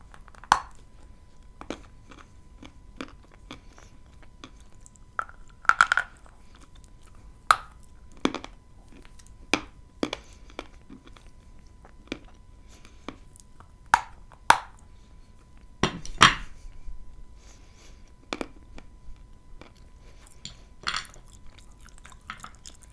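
Close-up ASMR chewing and biting of a sticky Kyrgyz two-in-one food treat: scattered, crisp bites and wet mouth sounds come in irregular bursts against near silence.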